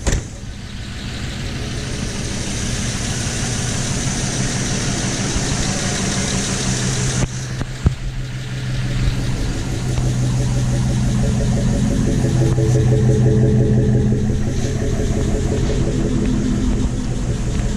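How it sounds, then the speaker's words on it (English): A freshly installed 5.3 LS V8 runs close by at a steady idle, a loud continuous rumble with a brief rev change partway through. "We're gonna let it run for a little bit, let the motor get up to temperature"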